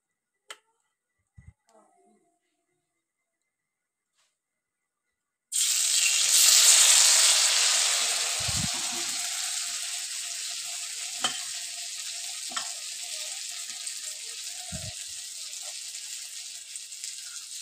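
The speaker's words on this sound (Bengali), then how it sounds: "আর যে কটা ডিম বাকি আছে সে কটাও ঠিক এইভাবে আমি ভেজে নেব।" Batter-coated eggs dropped into hot oil for crunchy egg fingers: after a few soft clicks and silence, a sudden loud sizzle bursts up and settles into steady close frying with occasional taps.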